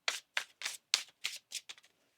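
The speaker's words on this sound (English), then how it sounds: "One more shuffle." A deck of tarot cards being shuffled by hand, eight crisp riffling bursts in quick succession, close and clear, the last few shorter and softer, with no talking.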